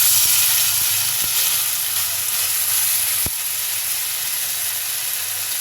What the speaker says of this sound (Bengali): ভাজিটা আস্তে আস্তে করতে হবে